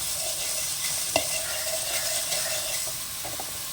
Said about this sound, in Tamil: எண்ணெய் விடாமல் கிளறிக்கலாம், வறுத்துக்கலாம்.